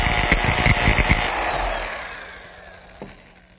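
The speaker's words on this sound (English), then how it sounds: "Now I really drilled that one a little bit too low." A power drill whirs in short revving bursts through the staff of a Nantucket basket, then winds down into a fading whine with a small knock near the end.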